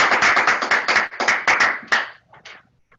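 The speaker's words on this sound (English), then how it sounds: "Let's give them one more round of applause." Applause at a graduation ceremony for an entrepreneurial program: a small group clapping close by, rapid bursts that thin out and trail off into a few scattered claps before silence.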